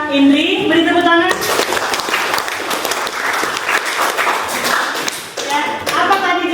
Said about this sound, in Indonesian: Sekali penjelasan dari teman kita Indri, beri tepuk tangan.